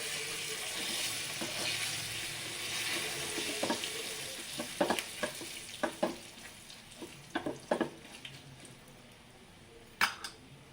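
Curry leaves crackle and spit as they temper in hot ghee for mango rasam, a constant close sizzle broken by sharp pops and a few clinks of a metal spoon.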